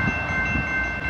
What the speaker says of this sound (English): So it's an all-around train.